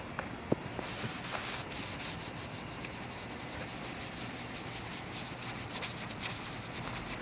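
A wet sponge scrubbing a surface in steady, close rubbing strokes, a soft continuous scratchy swish with one brief knock near the start and no talk.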